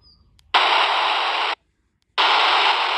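Two bursts of loud, steady hiss, about a second each, separated by a brief silence, from a walkie-talkie's volume check button.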